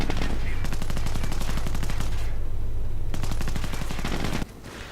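Rapid machine-gun fire in a World War II-style video game, aimed at a German Kettenkrad half-track. Loud, dense bursts continue almost without a break and drop off suddenly near the end.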